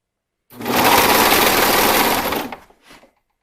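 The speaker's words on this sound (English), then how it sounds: "my machine just doesn't want to get that elastic in the beginning" A sewing machine stitches elastic onto the V neckline of a gala gown in one steady, loud, close run of rapid mechanical whirring for about two seconds, then stops with a faint trailing clatter.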